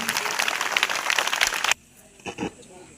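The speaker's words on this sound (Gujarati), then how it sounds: "એક વખત જોરદાર તાળીઓથી આપણે એમનું સ્વાગત કરીશું" Schoolchildren at an Independence Day celebration at an ashram school clap loudly and steadily to welcome a visiting magician, the applause cutting off abruptly after under two seconds, followed by a few faint knocks and rustles.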